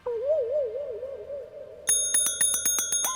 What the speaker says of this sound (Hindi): इनको घंटी बजाने से फुर्सत नहीं है